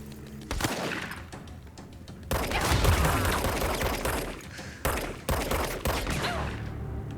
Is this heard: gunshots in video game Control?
yes